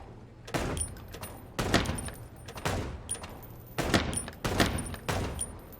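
Gunfire from a slow weapon in the video game Chicken Police comes as a series of evenly spaced single shots, about one per second, each a sharp crack with a short ringing tail, moderately loud with no talk.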